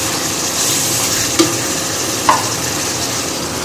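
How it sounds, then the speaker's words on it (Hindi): Capsicum goes into a pan of frying macaroni with corn, giving a loud, constant sizzle and hiss with two brief knocks of a spoon or pieces landing in the pan. "और फिर इसके बाद इसमें हम शिमला मिर्ची डालेंगे"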